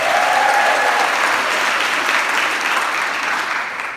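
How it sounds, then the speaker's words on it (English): A crowd at an Elevate Daytona evening speaking event breaks into loud, sustained applause, a dense even roar of clapping that holds steady for several seconds with a faint whoop near the start. "How about another round of applause for Ryan Toscani?"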